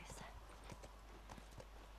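Faint, rhythmic clip-clop of horse hooves in the video game The Last of Us, steady trotting beats under a constant background hum.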